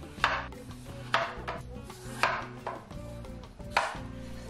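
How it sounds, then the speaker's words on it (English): A knife works over a cucumber on a board, cutting it into ribbons in four or five distinct scraping, tapping strokes, close and clear with a faint background hum and no talking. "Now we're going to peel our cucumber into ribbons, though I don't really know how to do that"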